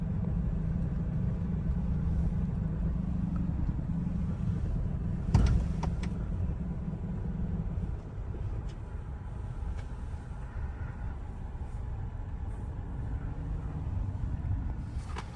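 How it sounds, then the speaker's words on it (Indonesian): A Kia Carens creeps down a steep slope under hill descent control, giving a steady low engine and road rumble with a brief knock partway through. "Menurun tajam pakai hill descent control."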